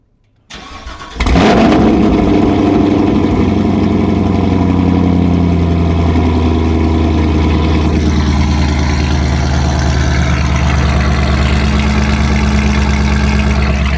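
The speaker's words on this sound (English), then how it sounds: "Let me go ahead and give y'all a little cold start real quick." A Chevrolet Camaro cold-starts with a short crank, catches and settles into a loud, steady idle, heard up close and alone for over ten seconds.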